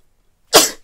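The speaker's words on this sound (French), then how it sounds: "L'éternuement du jour." A single sudden sneeze bursts out close and loud from a person indoors, a sharp explosive onset trailing off over a fraction of a second, with quiet before it.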